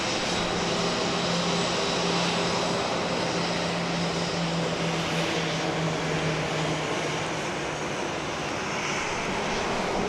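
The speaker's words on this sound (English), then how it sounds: "As Flight 1837 arrives from El Paso." Southwest Boeing 737-700, Flight 1837 from El Paso, arriving at Dallas Love Field, a loud sustained jet roar with a steady engine whine filling the whole span, no voices.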